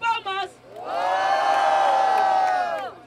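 A rap battle crowd erupts into loud, sustained cheering and whooping for about two seconds after a few brief shouts, then fades.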